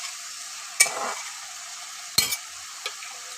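Spices with turmeric and Kashmiri chili powder sautéing in a pan, with a few sharp spoon scrapes and stirring knocks over a soft, steady background sizzle.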